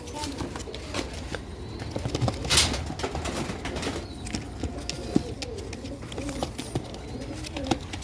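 Sialkoti pigeons coo softly close by, their low murmuring calls repeating over a busy background of rustling and scattered taps.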